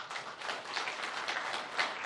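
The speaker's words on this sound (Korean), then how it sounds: "제 말이 맞다고 동의하시면 박수 한번 쳐주시죠" Audience applause at the 2019 Gyeonggi Hope Forum on microbiome agriculture and public health: a steady, dense crowd clapping that fills the hall evenly throughout, with no voices over it.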